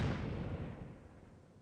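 A single heavy explosion in the video game Conqueror's Blade, a loud booming blast that rolls off into a fading rumble, heard alone.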